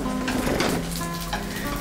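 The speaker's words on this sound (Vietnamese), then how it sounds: "Xong đó là bắt đầu tới chiên mấy con cá." Fish fries in a pan of hot oil, a loud close crackling sizzle with some stirring noise, heard alone without voices.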